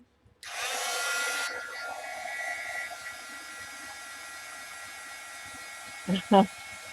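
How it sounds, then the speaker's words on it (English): A heat tool warms an art journal page, starting with a loud, steady blowing whoosh that eases to a quieter continuous hiss and runs to the end, with two brief knocks near the finish. "Let me just put some heat on this real quick."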